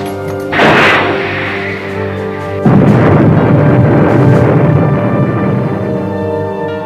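Submarine firing a torpedo from tube 2, a loud booming launch with a rushing burst, followed seconds later by a second heavy surge of roaring noise that slowly fades.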